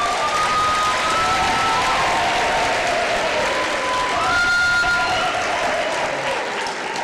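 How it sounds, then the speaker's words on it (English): A large graduation ceremony audience claps steadily and loudly throughout, a dense wash of applause with some faint cheering and murmuring voices mixed in. "Let's us all give a final round of applause to these graduates."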